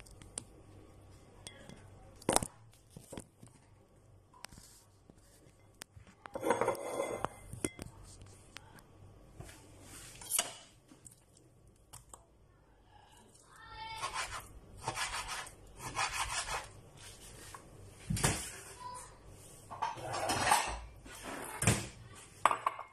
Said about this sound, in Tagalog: ikat ko muna itong ating beef. Ayan. So, ikat ko siya na medyo pahaba.